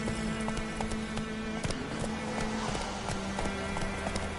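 Roach, a horse in The Witcher 3 video game, galloping in a steady rapid clip-clop rhythm, close and continuous over a low game ambience.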